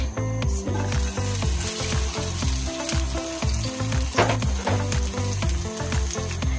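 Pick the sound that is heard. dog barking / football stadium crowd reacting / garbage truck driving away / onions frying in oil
onions frying in oil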